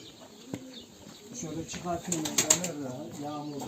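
Pedigree pigeons coo softly in a Turkish fancier's loft and garden, low repeated throaty calls with a brief flutter of wings, fairly quiet and close.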